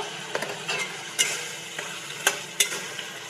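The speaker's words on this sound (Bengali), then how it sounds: "ভালো করে কষিয়ে নেব।" Spinach and mutton for palak gosht are stirred and fried in a pan, giving a steady sizzle broken by a few sharp scraping clinks of the spoon against the metal.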